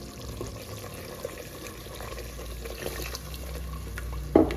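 Water pours steadily into a pan of semolina halwa mixture with gram flour, a continuous watery rush that stays fairly even throughout and ends with a brief splash.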